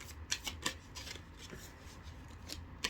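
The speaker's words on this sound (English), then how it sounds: "I'm gonna just keep pulling some more cards." Tarot cards being shuffled and pulled, giving faint, close riffles and soft snaps in a few separate bursts over quiet room tone.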